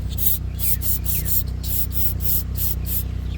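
Corroded metal surfaces on an engine are scrubbed clean with quick, regular back-and-forth rubbing strokes, about a dozen rasping passes up close over a low steady background hum.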